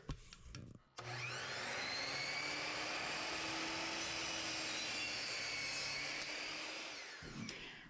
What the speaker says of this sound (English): So I'm going to go do that on the miter saw.